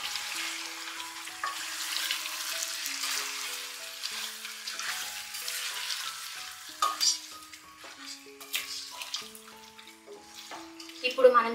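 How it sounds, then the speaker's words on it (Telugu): Andhra-style chicken masala curry with salt and turmeric, sizzling while stirred in the pan, a steady close fry with scraping strokes that grow choppier and louder toward the end, background music running underneath. "ఇప్పుడు దీన్ని బాగా మిక్స్ చేసుకోవాలి."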